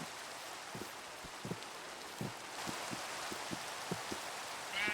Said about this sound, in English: ooh, a rainy day.